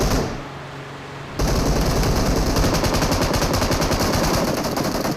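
Rapid, sustained automatic gunfire from a battle royale video game, loud and close, with steady rattling bursts that continue without pause after a brief quieter opening.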